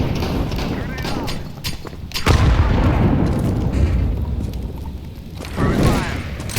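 A grenade blast in the video game Counter-Strike 2 lands with a loud, booming low-end burst followed by a rumbling tail, then a second, smaller burst near the end, while a voice talks over the gameplay.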